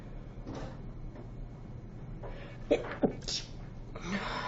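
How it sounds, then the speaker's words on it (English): A single sneeze in a quiet room over a low background hum, with a couple of faint knocks and breathy sounds around it. "I'm going to sneeze again"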